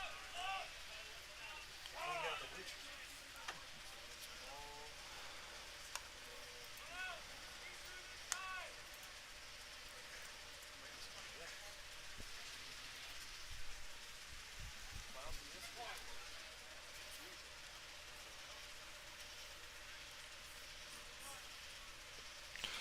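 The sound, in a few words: rain falling on a baseball field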